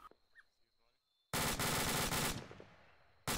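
Heavy gunfire in a military shooter video game erupts after a quiet stretch: a loud, dense burst of automatic fire that fades out, followed by another sudden burst at the end.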